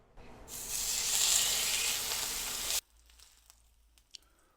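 Sous vide prime rib with a dried surface searing in a hot pan, a loud steady sizzle for about two seconds that cuts off abruptly, leaving a quiet room with a faint tap.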